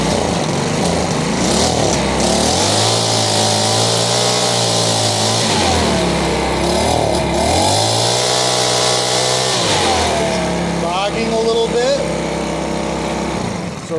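Small two-stroke engine of a Makita BHX2500CA leaf blower running after a pull start, loud and close, its pitch rising and dropping repeatedly as it bogs and revs unevenly, with a voice talking over it.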